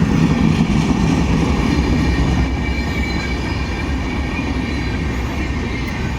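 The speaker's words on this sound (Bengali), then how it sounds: "পাটনা হাওড়া জন শতাব্দী এক্সপ্রেস ওইদিকে যে কর্ডের লাইন দেখতে পাচ্ছেন যেই লাইনে জন শতাব্দী চলছে" The Patna-Howrah Jan Shatabdi Express runs along a chord line, a loud continuous rumble of rolling wagons with wheel clatter and a faint squeal that eases slightly as it goes on, with no voices.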